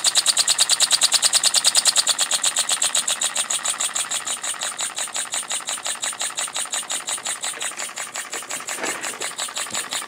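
A homemade steam engine built from scrap runs on compressed air with a rapid, even chuffing beat, loud and close, slowing slightly as it goes, with no talking.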